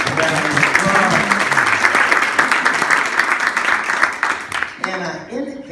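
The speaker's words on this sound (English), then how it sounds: "Let's give Kaiser a round of applause." An audience gives a round of applause for Kaiser Permanente at a speech, a dense, fairly close clapping under a voice that fades out after about five seconds as he resumes speaking.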